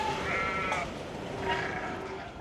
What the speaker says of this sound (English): What about these long neck sheep?